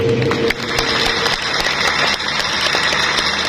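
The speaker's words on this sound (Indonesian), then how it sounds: "tepuk tangan" Audience at an Indonesian anniversary gathering breaking into applause, a dense close patter of many hands clapping that continues steadily for a few seconds.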